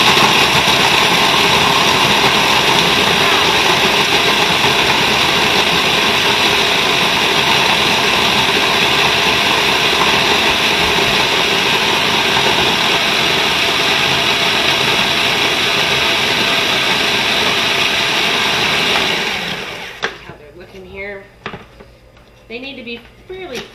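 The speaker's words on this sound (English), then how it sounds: "we start out with 20 Oreos in my food processor. Grind it up." A food processor grinds 20 Oreo cookies in a loud, steady whirring roar lasting nearly twenty seconds, then cuts off, leaving quieter clattering handling sounds.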